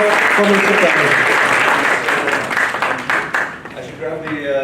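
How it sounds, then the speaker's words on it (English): Applause from an audience at a technical analysis seminar fills the room, dense and fairly loud, then thins out into scattered claps while a voice starts speaking over the fading noise. "A big round of applause for Mr. Teller."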